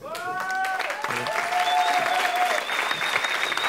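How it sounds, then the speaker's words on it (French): Studio audience applause on a French television comedy show, a full burst of clapping that swells and holds steady, with brief tonal sounds and a voice heard over it near the start. "Merci, applaudissements, magnifique."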